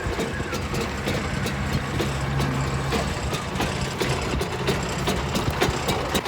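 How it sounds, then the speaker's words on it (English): A farm tractor engine runs at a steady idle at a pumpkin patch, a continuous low rumbling drone with faint rattling texture, fairly close and unbroken, with no talk over it. "We've got the tractor up and running."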